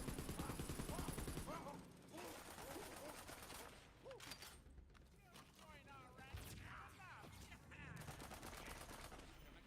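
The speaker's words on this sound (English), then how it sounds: "Ooh, magic missile. Oh, now that's a classic D&D spell right there." Magic missile spell effects from the video game Tiny Tina's Wonderlands crackle and burst in rapid volleys amid busy combat noise, with voices talking over the action.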